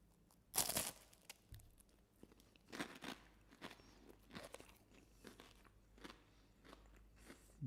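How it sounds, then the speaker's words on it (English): Someone bites into a crunchy salted caramel wafer and chews it. After one sharp loud crack comes a run of softer crunches in an irregular rhythm, close to the mouth, with no talking. "The wafer is nice and crunchy."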